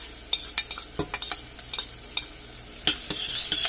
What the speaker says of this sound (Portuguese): Vou estar dourando uma cebola bem picadinha.